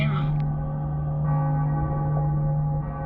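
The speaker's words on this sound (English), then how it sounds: "Bells were cracked too. It gave off this eerie, atonal clang." Cracked bells in Cyberpunk 2077 give an eerie, atonal clang, heard as a sustained, droning metallic ring with a low steady hum, faint and continuous throughout.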